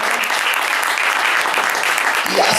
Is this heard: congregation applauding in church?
yes